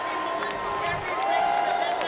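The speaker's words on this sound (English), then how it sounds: "Man, the booing is super real." Crowd noise swells on the Democratic National Convention floor, a dense mass of booing and shouting voices with a rising, sustained tone, loud and enveloping throughout.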